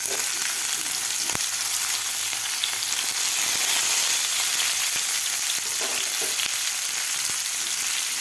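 Masala-stuffed bitter gourds fry in hot oil with popped mustard seeds, producing a loud, dense, steady sizzle with scattered sharp crackles and no speech.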